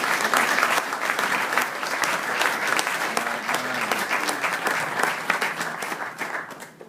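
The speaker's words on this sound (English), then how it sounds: "Give my wife a round of applause." Steady audience applause at a presidential address to a Toastmasters gathering, filling the room for several seconds before tapering off at the end.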